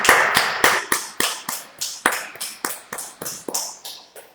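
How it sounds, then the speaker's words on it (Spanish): Rhythmic clapping during a church service, about a dozen distinct loud claps in an even beat that gradually softens, heard on its own without talk. "Dale un fuerte aplauso a nuestro Señor Jesucristo."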